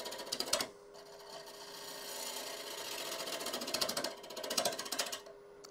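A wood lathe turns a cherry burl bowl with big chips flying off, giving a steady scraping, rasping hiss of the tool cutting the spinning wood, swelling and easing in passes, with a brief spoken exclamation.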